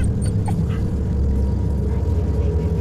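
A dog whimpers and yips in the horror game Fears to Fathom: Carson House, short whines rising over a steady low rumble of background ambience.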